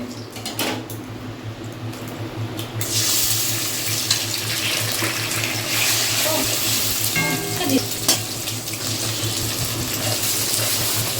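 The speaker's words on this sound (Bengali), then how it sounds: "এখন তেল গরম করতে দিলাম এই যে ডিম দেবো" Egg sizzling in hot oil in a home kitchen pan as it is prepared for Maggi noodles, a steady crackling hiss that grows louder after a few seconds, with occasional clinks and no speech.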